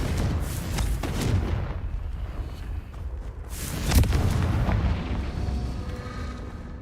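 Confringo blasting spell going off in the Hogwarts Legacy video game: a few heavy booms over a low rumble, the loudest burst landing about midway, then fading into ongoing game noise.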